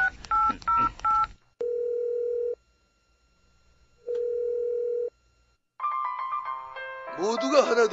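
A telephone is dialed with a quick run of keypad tones, then two long steady call tones separated by silence, followed by a busier electronic melody and jingle.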